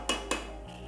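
Two quick metallic scrapes of a spoon against a cooking pot as pepper gets stirred into jollof rice, close and fairly loud, followed by a low steady hum.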